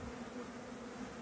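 A honeybee swarm hums in a steady, even drone, faint and continuous throughout with no voices.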